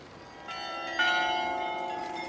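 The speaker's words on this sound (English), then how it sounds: "You hear the bells ringing, and beautiful. That's the Nieuwe new church behind me." Church bells of the Nieuwe Kerk ring out across the main square in Delft, steady overlapping peals heard from a moderate distance with a soft outdoor hum underneath.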